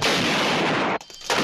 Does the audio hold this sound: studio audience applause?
no